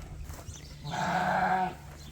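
A sheep on a farm that raises show sheep gives one clear, loud bleat lasting under a second, with quieter livestock and barn background noise before and after.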